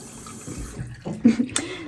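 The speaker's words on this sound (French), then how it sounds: "La tête sous l'eau et hop je viens nettoyer." Tap water runs into a sink while a face is rinsed, a soft steady wash with a few brief splashes toward the end.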